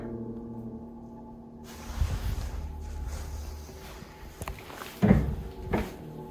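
A door bangs shut nearby with a sharp thud, followed shortly by another heavier knock in a quiet room of an abandoned farm building.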